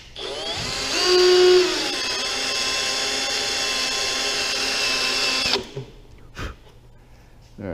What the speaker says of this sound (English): Good quarter inch bit will go through steel without a pilot.